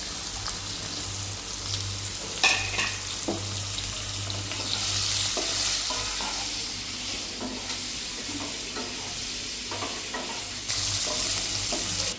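Chopped ivy gourd (tondli) fries in a pan with a steady close sizzle, broken by scraping stirs and a few sharper clatters, and no one speaks.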